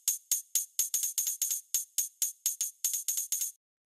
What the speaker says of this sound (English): Next thing we've got here is this tambourine,